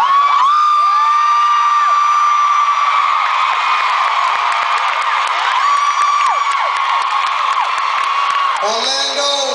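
A huge arena crowd at a concert in Orlando screams and cheers continuously in a dense, shrill wall of sound that stays loud throughout.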